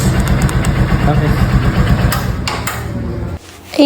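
A new motorcycle engine runs during a test, a steady close mechanical rumble with voices speaking over it, cutting off abruptly near the end.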